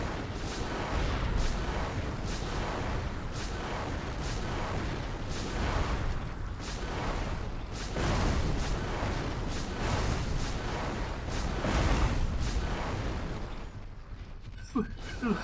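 Missiles fire and explode in rapid repeated booms in the Xbox video game MechAssault, a dense, loud, continuous barrage of blasts and rumble.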